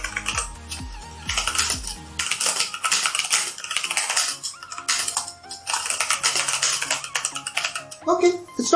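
Typing on a CosmicBytes Black Eye mechanical keyboard with Outemu Brown switches: close, rapid clacking keystrokes in irregular bursts with a brief thud at the start, fairly loud, with some talk.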